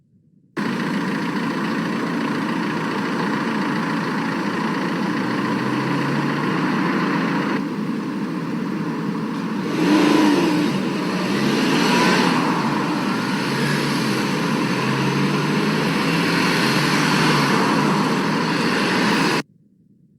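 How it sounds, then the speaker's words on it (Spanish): Steady traffic noise of cars driving on a road, a continuous broadband engine and tyre roar that swells slightly midway as a vehicle passes close, with no talking. "ese era el sonido de los autos"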